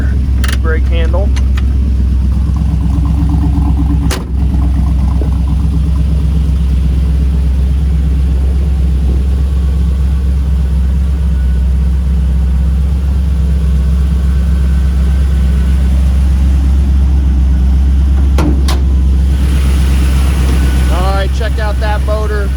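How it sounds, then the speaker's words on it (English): A 350 cubic inch small block Chevy V8 with a mild cam in a restored 1968 Chevrolet C10 idles steadily and loudly throughout, a deep continuous rumble, with someone talking over it. "That's a small block Chevy engine, 350 cubic inch, custom built out in Buena Vista. Has a mild cam in it. It runs really nice and strong."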